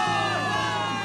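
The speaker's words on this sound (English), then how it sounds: "Give it up for yourselves, soldiers. Cheer for victory." A crowd of soldiers in the Zenless Zone Zero video game cheers for victory, a dense, loud roar of shouting voices that holds steady throughout the short burst.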